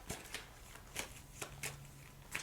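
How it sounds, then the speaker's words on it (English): A deck of tarot cards is shuffled by hand, giving a series of quick, soft riffling and slapping bursts at an uneven rhythm, quiet and close, without any talking. "let me just give this card a good shuffle"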